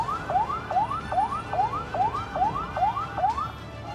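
A fire brigade truck's wailing siren rises and falls in steady, rapid sweeps amid street traffic at a mall fire scene, moderately distant and continuous.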